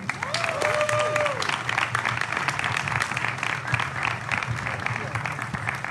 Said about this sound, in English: So now if you could all give an applause to our final speaker, President Johnson.